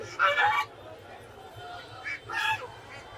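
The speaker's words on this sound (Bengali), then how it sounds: "এই যে এখানে দেখতে পাচ্ছি রাজহাঁস।" Geese honking at a busy poultry market, two short bursts of nasal calls close by, with faint crowd chatter in the background.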